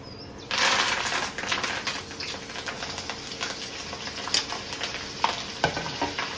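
Peanuts, cumin, mustard seeds, curry leaves and chillies sizzle in hot oil in a home kitchen for poha chivda, starting abruptly after a short quiet moment, then crackling steadily with scraping stirs and occasional sharper pops.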